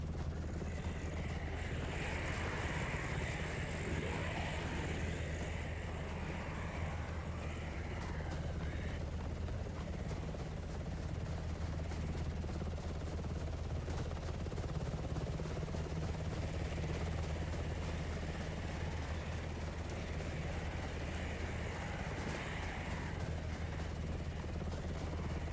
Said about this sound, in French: l'hélicoptère s'en vient